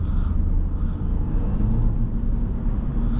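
A 2025 Ram 1500 RHO pickup in four-high drives through snow at night, heard from inside as a steady, loud, deep engine and tire rumble with a constant low roar and no voices.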